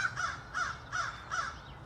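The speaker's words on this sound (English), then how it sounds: "I assume you can hear those crows. They're very vocal today." Crows cawing outdoors, four evenly spaced, fairly faint caws repeating in a steady rhythm with no other sounds.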